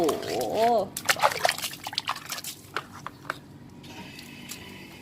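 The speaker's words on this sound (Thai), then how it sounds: "รดน้ำนิดนึง" Water is poured onto a not-yet-planted moonlight plant in a home garden, giving soft splashes, trickles and drips over a few seconds. Someone speaks over the start of the watering.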